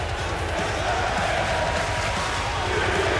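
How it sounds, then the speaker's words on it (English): A crowd at a live wrestling event roars and cheers continuously, with dense rhythmic thumps and a commentator's voice running underneath. "I mean, you listen to this crowd."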